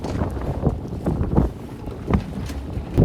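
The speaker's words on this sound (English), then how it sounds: "I'm doing a little bit of motor sailing here. The wind is in a really, really, really bad spot." A sailboat motor-sails through strong wind, with heavy gusts rumbling and thudding against the microphone in uneven surges and no voice heard.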